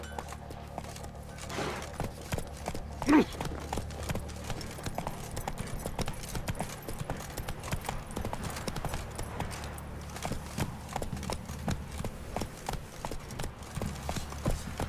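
Horse hooves clip-clopping at a steady galloping rhythm in The Witcher 3: Wild Hunt, a continuous rapid beat with one louder thump, running throughout with no talking.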